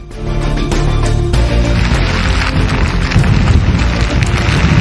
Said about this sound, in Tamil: இரவு 9 மணி முதல் கனமழை பெய்து கொண்டிருக்கிறது